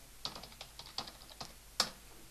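A computer keyboard is typed on to enter a name, a short run of about eight quiet, close key clicks at an uneven pace, with the last one the loudest.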